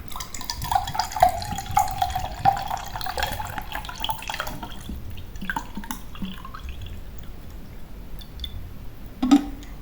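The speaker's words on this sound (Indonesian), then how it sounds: "yang pertama kita tuangkan air" About 200 ml of water is poured into a container for a simple physics experiment, a close, trickling and splashing stream for several seconds that fades, then a brief clink near the end.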